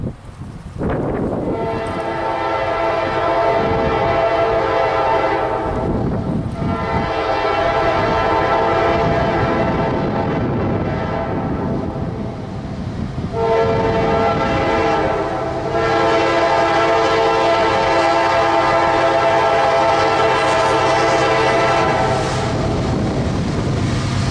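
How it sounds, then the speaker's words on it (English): A CSX freight train led by a rebuilt CM44AC locomotive rumbles past with loud, sustained horn blasts sounding in long sections, the engine drone and rolling wagons underneath, close and continuous throughout. "as the rebuilt CM44AC leads the train bound for New Orleans"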